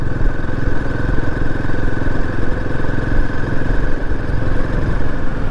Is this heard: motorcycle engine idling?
yes